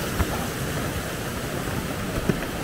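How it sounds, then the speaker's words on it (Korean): The mountain stream of Cheondong Valley in Sobaeksan National Park flows as a steady, full broadband rush of water, with a couple of faint low knocks in the background and no talk. "아, 물소리 좋다."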